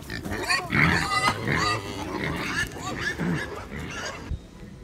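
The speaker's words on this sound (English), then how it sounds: "I'll show you the pigs over there on the other side." Pigs in a pen on a homestead, grunting and squealing with honking fowl mixed in, close and fairly loud, with a person talking over them.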